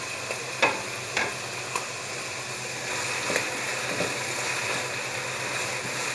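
Chicken frying in a pan, a soft even sizzle with a few light utensil taps early on, close but fairly quiet, no one talking.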